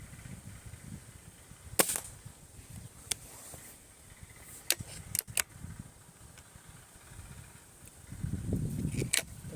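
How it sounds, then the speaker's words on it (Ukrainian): A few sharp, distant cracks of air rifle shots firing Shershen pellets, two of them close together, pop out over quiet outdoor rumble and faint wind. "Два постріли є."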